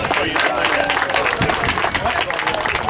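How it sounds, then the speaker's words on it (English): A crowd at a lakeside recreation department celebration gives a loud round of applause, continuous clapping with voices and cheering mixed in. "let's give Jim and his recreation department a big round of applause"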